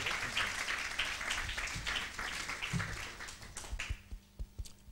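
An audience bursts into steady applause welcoming a guest speaker at a school event, dense clapping that thins out toward the end into a few scattered claps and taps.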